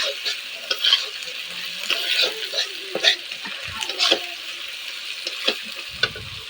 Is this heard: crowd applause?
no